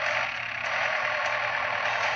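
Tractor driving in the crash-physics game Turbo Dismount, a steady loud engine drone with a broad rumbling roar running continuously and evenly, no talk over it.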